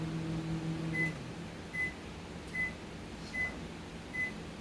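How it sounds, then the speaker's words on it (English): A microwave oven hums, then five evenly spaced electronic beeps ring out clearly as it finishes, about one every second. "I heard my microwave just went off"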